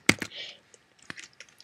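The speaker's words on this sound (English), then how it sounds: "We're going to type" Keystrokes on a computer keyboard while code is typed for a Java Super Mario game, a few sharp clicks in a quick cluster, then a pause and a sparser run of lighter taps, close and fairly quiet.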